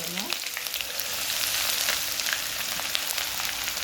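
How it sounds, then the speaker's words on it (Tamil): Chopped onions frying in hot oil that was used for bitter gourd, a dense, continuous loud sizzle heard up close with faint crackles and no talk. "அந்த பாவக்காய் வறுத்த எண்ணெயிலே போட்டுக்கோங்க."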